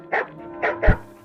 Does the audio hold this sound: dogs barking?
yes